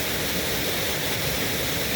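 A two-tier waterfall on an army base pours in a steady, unbroken rush of white water, close by and constant, with no voices over it.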